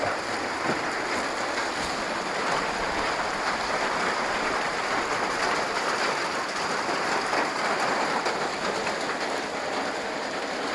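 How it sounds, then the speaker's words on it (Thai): Heavy rain pours steadily through a stormy night during overnight fishing with earthworm-baited lines, a dense, unbroken roar that stays loud and even throughout with no voices. "นี่ครับ บรรยากาศฝนตกครับ"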